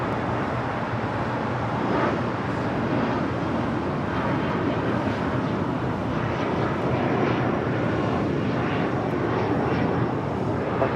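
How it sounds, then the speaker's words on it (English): A JSX Embraer jet takes off from the south side at LAX, a steady broadband engine roar that stays loud and fairly close throughout with no talk. "JSX and Embraer taking off here on the south side, heading to Vegas"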